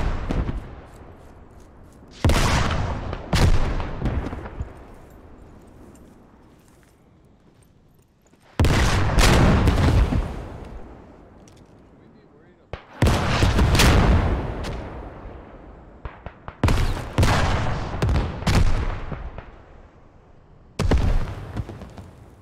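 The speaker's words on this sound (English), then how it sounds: "That's where all the firing seems to be directed." Heavy WW1 battlefield fire in Beyond the Wire: several loud clusters of rifle shots and booming artillery blasts, each tailing off into quieter rumbling before the next burst, with no talking.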